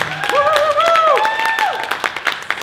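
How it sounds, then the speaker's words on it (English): Clapping and cheering from a crowd, with voices calling out over it, loud and fading toward the end. "let's give them all a round of applause for those two pictures"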